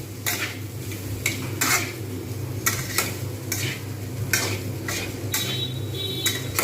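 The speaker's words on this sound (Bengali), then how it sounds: "এরকমভাবে আমি কিন্তু নাড়তে থাকবো।" Mixed fried rice being stirred in a pan, with a utensil scraping and clinking against the metal in repeated strokes over a steady low sizzle, close and alone.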